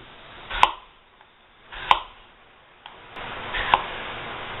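A knife slices through apples on a cutting board in three separate crisp chops spaced about a second apart, close and clear with quiet between the cuts.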